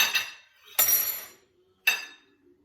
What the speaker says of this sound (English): I love the crunchiness of the crust